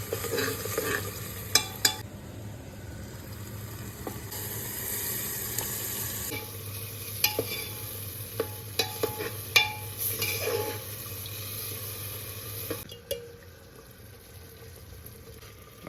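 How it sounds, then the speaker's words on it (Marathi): Biryani masala, red chilli powder and turmeric being stirred and roasted in oil, with a low continuous sizzle, repeated metallic spoon knocks and scrapes against the pan, and a quieter stretch near the end. "सुटेपर्यंत मसाला भाजून घ्यायचा."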